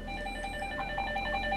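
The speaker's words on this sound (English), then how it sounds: "my phone's ringing" A phone rings with steady, faint tonal ringing under gameplay background noise, no voices over it.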